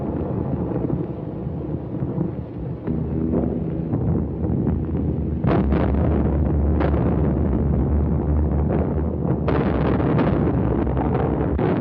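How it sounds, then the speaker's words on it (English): Bombs exploding during the wartime London Blitz, captured on an old, noisy recording: a roaring background rumble broken by several sharp, muffled blasts spaced a second or more apart. "That was a bomb."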